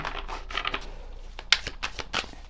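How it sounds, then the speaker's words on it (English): A deck of tarot or oracle cards being shuffled by hand, soft riffling and tapping bursts coming in quick irregular clusters, close and fairly quiet. "Okay, so I'm going to stop shuffling with that one."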